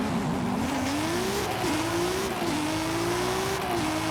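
A C7 Corvette races past a truck, its engine holding a steady, sustained whine that climbs and dips slightly with gear changes, loud and continuous against constant road and wind noise.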